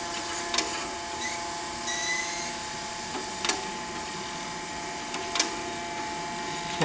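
A Mitsui MSG-250H hydraulic surface grinder runs its table back and forth between the stops. A steady mechanical whir carries on throughout, broken by sharp periodic clunks as the table reverses.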